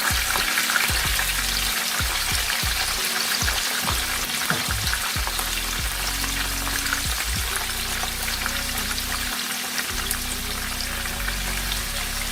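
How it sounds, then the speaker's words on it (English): Steady, dense sizzling of tofu frying in hot oil, loud and continuous throughout, with occasional low bumps as pieces are moved. "I'm going to put the tofu in it to start frying"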